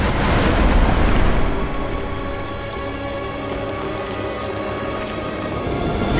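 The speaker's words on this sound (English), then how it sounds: "explosion!" A loud, deep explosion in the video game Bloodborne, bursting up out of the ground with a heavy low rumble for about a second, then fading into a sustained roaring wash that lingers to the end.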